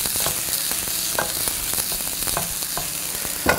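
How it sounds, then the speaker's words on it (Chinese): Minced garlic and scallion stir-fry in hot oil, a dense steady sizzle punctuated by quick scraping strokes of a spatula against the wok. "再来点油，来点蒜末、葱末，简单给它炒香一下"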